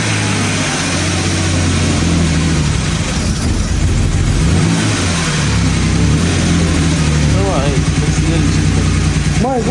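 A BMW E61 wagon's engine runs close up while the accelerator is blipped, giving a loud, steady mechanical drone with rising and falling revs and a slight hesitation. A person talks over it throughout.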